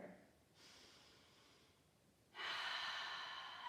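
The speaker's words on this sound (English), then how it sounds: "We'll take a cleansing breath here." A cleansing breath is taken during a yoga sun salutation, a soft breathy inhale followed by a louder, longer exhale, close and alone in a quiet room.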